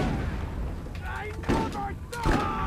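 Gunfire in Borderlands Remastered, a few sharp shots about a second apart, two of them especially punchy, over steady game background noise with some voice present.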